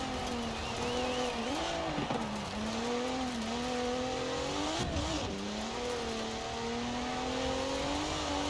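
Car engine revving hard in Forza Horizon with a tuned wheelspin build, a steady loud drone rising and dipping through gear shifts, with tire noise and a brief surge near the middle.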